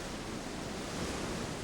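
Heavy ocean surf pounds steadily during a typhoon at Dokdo, a dense, continuous roar of breaking waves mixed with wind, loud and close with no voices.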